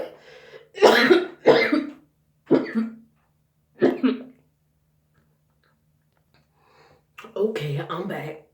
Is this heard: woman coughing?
yes